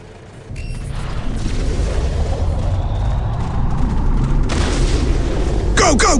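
Strafing-run explosions in the real-time strategy game Warhammer 40K Dawn of War Dark Crusade roll in as a continuous, loud wall of booms and blasts that builds after a brief quiet start, with sharper bursts near the end.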